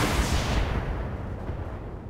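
Mech weapons in the Battletech video game unleash a full volley at once, a loud booming artillery-like blast that decays into a rumbling tail over about two seconds.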